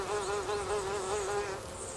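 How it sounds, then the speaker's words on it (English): Bees buzz around wild arugula flowers in a garden, a steady close drone that wavers slightly in pitch as they hover, quiet and alone with no voices. "but the bees love these flowers."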